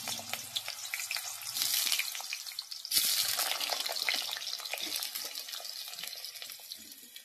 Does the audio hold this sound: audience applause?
no